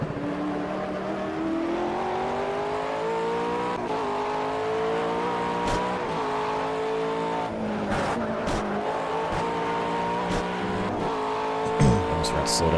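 A McLaren race car in the Project CARS racing game pulls out of the pits, its engine climbing through gears in steady rising whines with brief tire squeals, loud and continuous across the stretch.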